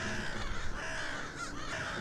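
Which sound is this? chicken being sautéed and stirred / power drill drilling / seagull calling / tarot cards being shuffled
seagull calling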